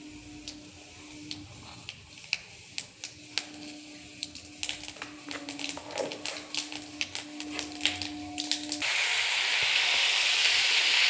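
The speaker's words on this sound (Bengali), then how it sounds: "এবার কড়াইয়ে তেল দিয়েছি আবার একটু, আর দেব তেজপাতা আর শুকনো লঙ্কা" Bay leaf pieces and dried red chillies hit hot oil in a kadai and give sharp scattered pops and ticks. Near the end a sudden, louder broad sizzle takes over.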